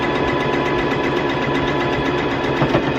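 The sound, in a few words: sewing machine sewing along edge of DIY face mask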